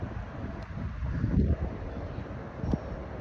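A soft breeze rushes and buffets the microphone outdoors, rising briefly and easing off, with no one speaking.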